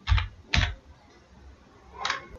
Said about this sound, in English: After that you have to type CMD and then you have to press enter.